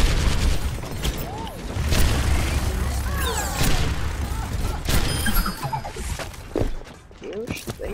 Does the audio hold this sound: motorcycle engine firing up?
no